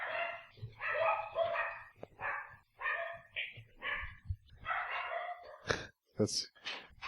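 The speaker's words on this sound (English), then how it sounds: "It's too bad we don't have just a recording of every time the dogs freak out." Several dogs barking indoors in a rapid, excited burst, sharp repeated barks and yips overlapping one another, fairly close and loud, with short gaps between volleys.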